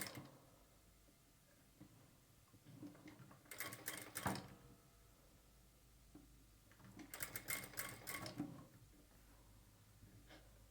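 A sewing machine stitches frills onto a sleeve in two quick, rattling runs separated by a quiet pause, close and clear with no talking.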